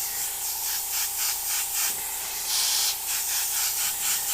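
Airbrush spraying paint onto skull flag artwork, a steady close hiss with soft rhythmic pulses as the spray sweeps back and forth, heard alone.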